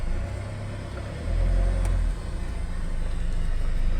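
Hyundai Starex H1 2.5 CRDi D4CB diesel from 2016 with an automatic gearbox pulling away slowly, a low engine rumble that swells as it moves off, then settles into a steady drone.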